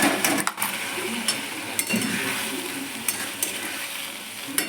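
Boiled corn in hot spiced oil sizzles steadily up close, while a spoon scrapes and clinks against the pan at irregular moments, with no voices.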